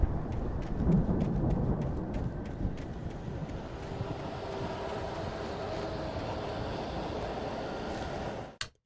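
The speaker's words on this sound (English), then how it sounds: "The storm raged on" A steady roar of rain and rumbling thunder from a storm in the video game Alan Wake continues for several seconds, with a heavier rumble near the start, then cuts off abruptly at the end.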